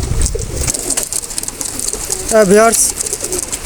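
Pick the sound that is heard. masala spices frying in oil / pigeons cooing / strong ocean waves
pigeons cooing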